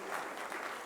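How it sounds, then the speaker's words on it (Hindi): Brief, faint burst of audience applause at a stage event, heard as a dense, even wash of clapping lasting under a second. "जोरदार तालियां"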